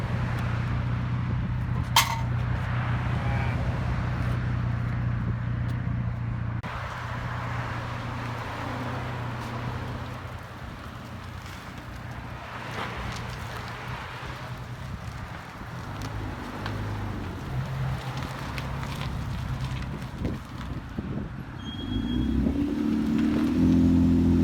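A 2015 Ford Taurus SHO with the EcoBoost turbo engine and a muffler-delete exhaust idles and revs with a steady, deep rumble that swells toward the end, close to the microphone with some wind noise.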